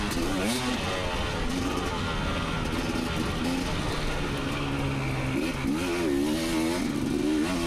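A 2019 KTM 250 XC two-stroke dirt bike ridden hard on an off-road OHV trail course, its engine revving and surging continuously throughout with shifting pitch as the rider climbs and accelerates.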